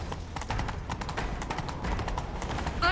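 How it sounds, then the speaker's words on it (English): Horse hooves clip-clopping at a gallop in The Witcher 3, a fast uneven stream of thudding beats close by, with a brief bright sound cutting in near the end. "Grab a horse, we'll chase him down."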